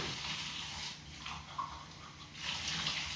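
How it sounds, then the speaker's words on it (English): Tap water running into a kitchen sink while dishes are washed, a fairly faint, steady hissing flow with slight surges and splashes, heard alone without talking. "I'm in the middle of finishing washing dishes. So, that's what you hear right now."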